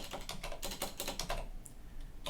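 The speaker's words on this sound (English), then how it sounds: "Type in your commit comment, update for Yay" Rapid, steady keystrokes on a computer keyboard as a commit comment is typed on a Linux machine, close and clear, with a brief pause near the end before a final tap.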